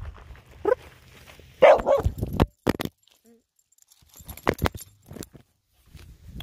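A reactive dog on a walk gives several short, sharp barks in scattered bursts, close by, with handling noises and brief quiet gaps between them.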